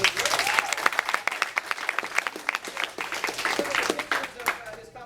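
A crowd claps loudly and steadily for a martial arts student who placed second in sparring and weapons at a tournament, with dense, continuous applause filling the whole stretch.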